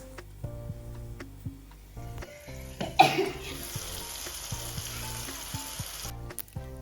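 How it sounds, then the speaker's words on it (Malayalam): Tomatoes stirred into a sizzling chicken biryani masala in a pan. Steady frying hiss swells loudly after a sharp clatter from stirring, with scattered utensil clicks and light ticks throughout. "തക്കാളി കൂടെ ചേർത്തിട്ട് നന്നായിട്ട് മിക്സ് ചെയ്ത് കൊടുക്കുന്നുണ്ട്"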